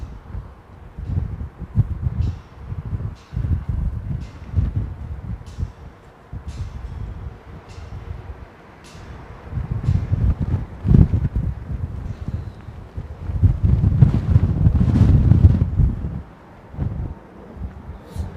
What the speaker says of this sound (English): It's that gusty, man.